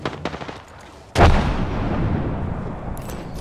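Frag grenade blast in the shooter game Apex Legends, a sudden loud deep boom with a long rumbling tail, preceded by a few light clicks and taps.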